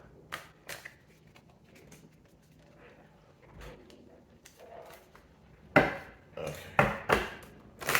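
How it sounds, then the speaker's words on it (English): A deck of cards shuffled by hand at close range: a few soft riffles early, then a cluster of loud, crisp riffling bursts over the last couple of seconds, with no talking. "And one more shuffle."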